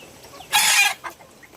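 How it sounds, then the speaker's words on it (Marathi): Native desi country chickens cluck nearby, one loud squawking burst followed by a shorter cluck against quiet farm background. "इकडे बघू शकता या प्युअर ओरिजिनल गावठी कोंबड्या आहेत."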